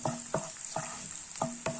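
Ginger fries in a pan with a steady sizzle while a spoon scrapes and stirs several times, the stirring strokes coming in rhythmic bursts, close up and with no voices.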